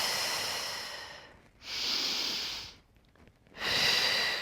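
Long, forceful exhales through the mouth in a Pilates class, two loud airy breaths separated by a short quiet pause, close and clear with no talking over them.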